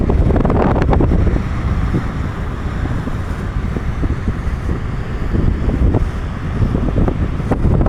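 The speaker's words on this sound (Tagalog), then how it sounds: "Lakas ang hangin." Strong wind buffets the microphone in a steady, heavy rumble on a bike lane, with gusts swelling and easing throughout.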